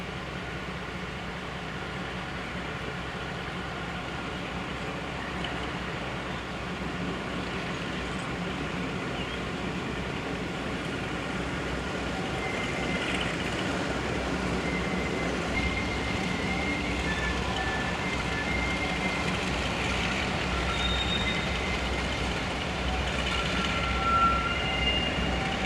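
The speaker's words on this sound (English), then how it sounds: "D821, named Greyhound, then departs for Haywood" Diesel locomotive D821 Greyhound pulls away from a heritage railway station, a steady low engine rumble with rolling train noise that stays even and moderately distant throughout.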